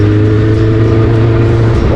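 A Suzuki Bandit motorcycle engine revs hard with the throttle opened, a loud, steady, close growl with a strong low hum that holds for two seconds without talk.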